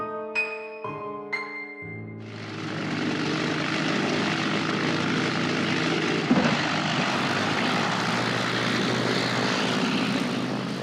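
A Lysander propeller airplane flies close and loud, its steady engine drone and airscrew roar holding for about nine seconds after a brief tonal musical opening.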